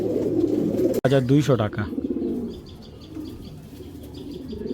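Racer pigeons coo softly in the background while someone speaks briefly and close up over them.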